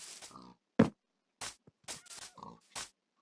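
Pig oinking in a video game: a few short grunts and snorts spread unevenly across three seconds, separated by silence, fairly faint with no speech.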